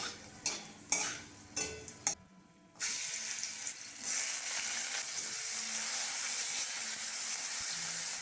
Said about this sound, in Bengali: শুকনো লঙ্কাটা ফোড়নে দিলাম।